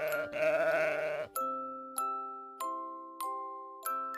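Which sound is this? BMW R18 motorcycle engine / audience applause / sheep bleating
sheep bleating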